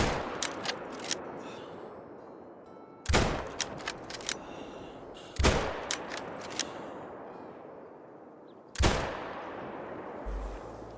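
Three sharp .338 Magnum bolt-action rifle shots ring out in the hunting game Call of the Wild, spaced a few seconds apart, each with a lingering echo tail and with faint clicks between them.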